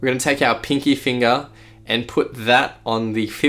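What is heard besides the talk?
None of the usual background noises is heard.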